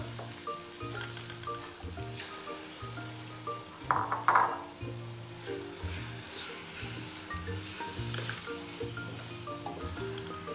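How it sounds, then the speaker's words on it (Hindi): Minced meat (keema) sizzles as it fries in masala in a pan. Quiet, steady crackling continues under background music, with a brief clink of the stirring utensil around the middle. "अब हम इसमें शामिल करेंगे कीमा"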